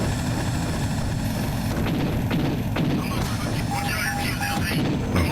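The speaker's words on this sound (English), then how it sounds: "Is this a supply helicopter?" A supply helicopter in the mecha video game GunGriffon 2, its rotor thudding steadily and loudly among booming combat effects and brief electronic game tones.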